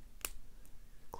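A Master Lock No. 533 shrouded padlock being picked with a pry-bar tension tool, giving a couple of tiny sharp clicks close up and very faint, with quiet gaps between them.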